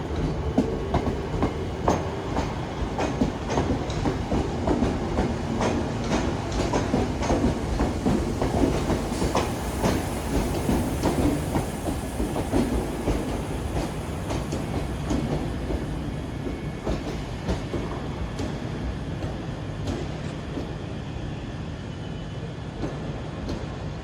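A ScotRail Class 320 electric unit running empty stock rolls through Glasgow Central station, a continuous rumble with rhythmic clicks of wheels over rail joints that slowly fades over about twenty-four seconds.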